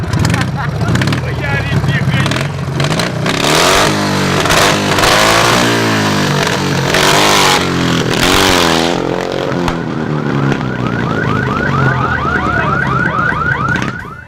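A motorcycle engine revs loud and close, rising and falling through repeated throttle blips, while voices and music-like tones overlap it, then settles toward a steadier warbling whine at the end.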